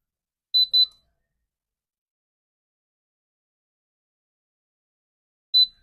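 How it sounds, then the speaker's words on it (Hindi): A phone repair setup beeps from a low battery: two quick high-pitched electronic beeps close together, a long silence, then one more identical beep, clear and isolated. "अभी यहाँ पे जो बीप बीप हो रहा है उसकी वजह क्या है कि इसकी बैटरी डाउन है"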